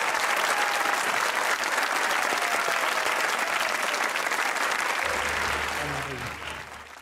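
Loud, dense applause from a studio audience at a comedy talk show, holding steady and then tapering off near the end while faint voices sit underneath.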